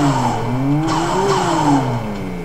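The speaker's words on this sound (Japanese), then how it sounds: "ブロークバルブの音するじゃん。" Engine of a racing car in a drag-racing video game, a steady loud drone with shifting pitch as the throttle rises and falls, running continuously for a couple of seconds with no talk over it.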